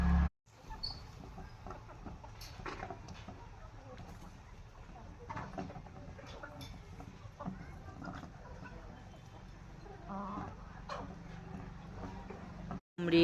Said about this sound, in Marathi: या सर्व आपण ज्या कोंबड्या पाहिल्या त्या सर्व कावेरी कोंबड्या आहेत।